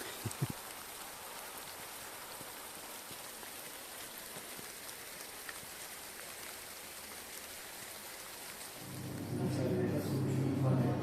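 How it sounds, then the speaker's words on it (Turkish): Steady rain patters across a surface throughout, with a louder, harsher rush of noise swelling in near the end. "Biraz yağmur yağıyordu."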